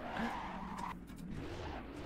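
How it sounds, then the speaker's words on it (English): Tires locking up on a Toyota Corolla in a racing simulator, a brief squealing skid over engine noise that cuts out midway and then resumes, moderately loud. "A little bit of a lockup there,"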